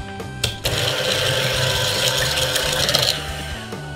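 An electric hand mixer beats butter, sugar and vanilla for muffin batter, giving a steady, close whirring drone with rattling and scraping against the bowl for a few seconds before it cuts off.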